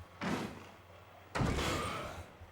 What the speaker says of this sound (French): Il va taper comme un bouin sur cette porte-là, là.